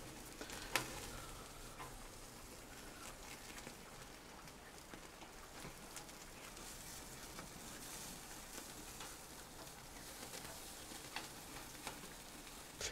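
Grilled corn kernels, cut from the cob with a knife, being stirred into a barbecue-cooked Texas-style chili con carne, a faint steady simmering sizzle with soft scraping and occasional small clicks of the spoon, with no talking.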